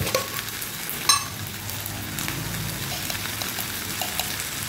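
Spices for a cauliflower and potato curry, with sugar added, sizzle and fry in a pan, a continuous crackling hiss with a few sharp spatters and scraping stirs, close by.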